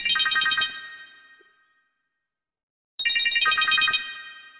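A telephone rings twice, with bright warbling trills in each burst and a stretch of silence between them.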